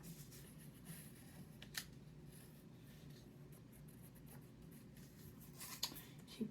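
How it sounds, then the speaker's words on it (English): Pen strokes scratching quills onto paper while sketching a Brontosaurus, a steady soft scratching with a few sharper strokes, close and quiet, with no talking. "I'm gonna draw a few more quills right here."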